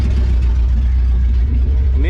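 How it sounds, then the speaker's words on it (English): A 1970 Ford F250 engine idles cold with a steady low rumble that holds even and continuous throughout, with talk over it. "it's sitting here idling"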